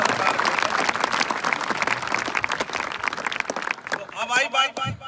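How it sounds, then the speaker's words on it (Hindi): A crowd claps loudly and densely for several seconds, then the applause breaks off and a person starts talking. "जोरदार ताली बजाओ।"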